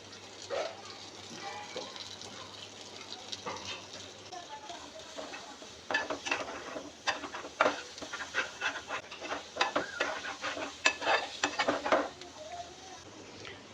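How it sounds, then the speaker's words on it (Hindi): Chopped onions going into a pan of sautéed garlic while making white sauce chicken pasta, with irregular stirring scrapes and utensil clatter over a soft sizzle, busier in the second half. "लहसुन को हमने सौटे कर लिया है। अब हम इसमें वेजिटेबल्स डालेंगे। सबसे पहले हम 2 अदद चॉप किए हुए प्याज डाल देंगे।"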